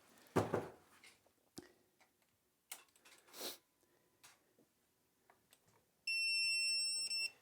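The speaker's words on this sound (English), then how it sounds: "That beeping is the third eye starting up" Scattered clicks and rustling handling noise, then a dash camera's steady, piercing electronic startup beep holds for over a second near the end, on a 2015 BMW 1200 RTP.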